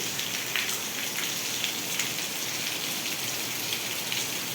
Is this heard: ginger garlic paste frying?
no